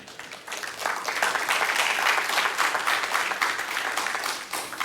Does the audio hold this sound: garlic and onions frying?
no